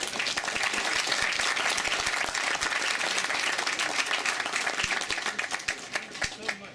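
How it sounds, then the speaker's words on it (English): Audience applause at a dinner event: dense, steady clapping from many hands that holds strong for several seconds, then tapers into scattered claps near the end. "Round of applause."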